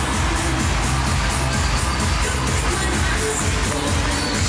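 Dense, continuous crowd roar and cheering filling a handball arena at the 2019 World Championship final between Norway and Denmark, loud and sustained without a break.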